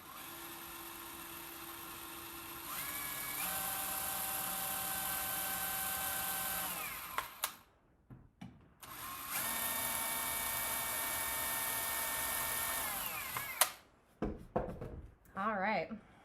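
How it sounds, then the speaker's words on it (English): A power drill boring screw holes in wood for a solitary bee hotel, two steady whining bursts of several seconds each, followed by brief clatter and handling noise. "those are drilled out"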